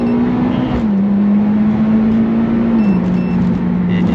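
A Mitsubishi Evo 10 accelerating hard from inside the cabin, a loud steady engine drone that holds its pitch, drops slightly at a gear change and then keeps pulling, with no talk.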